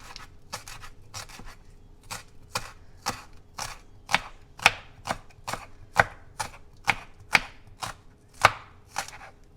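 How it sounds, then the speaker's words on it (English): A knife chops green onion into little pieces on a cutting board, around twenty crisp, evenly spaced strikes that grow slightly louder toward the end, heard up close with no talking. "we're going to start by cutting the green onion into little pieces"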